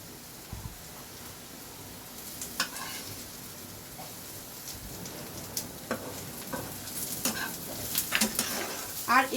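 Fried onions sizzle in hot oil under a soft constant hiss, broken by scraping stirs and spoon clinks that grow busier toward the end.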